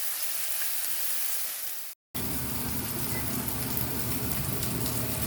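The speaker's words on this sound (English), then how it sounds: "You want to let the searing happen." BBQ chicken sears in a grill pan with a loud, steady, close sizzle like heavy rain, broken by a brief moment of silence before the hissing resumes evenly.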